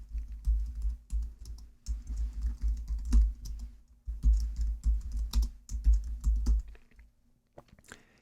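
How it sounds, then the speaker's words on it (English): A computer keyboard is typed on steadily up close, entering text into spreadsheet cells, with dense runs of soft key clicks broken by brief pauses. "I'm going to type the subtitle for it"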